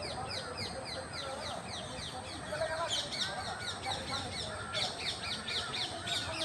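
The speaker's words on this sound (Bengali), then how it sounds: "চারদিকে পাখির শব্দ" Birds call around an old building, with harsh crow-like caws and mixed chirps repeating over a constant outdoor background, moderately near, with a voice talking now and then.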